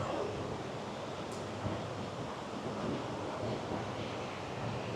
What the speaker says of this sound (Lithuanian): Vėjuks toks atsirado nemalonus.